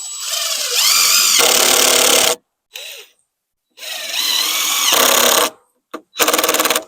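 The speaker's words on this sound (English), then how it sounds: "Get a couple of screws in them for now." Cordless driver sinking screws into 2-inch-thick roof rafters on a barn frame being built in the snow: two long, loud whirring bursts, each with short follow-up blips, separated by silence.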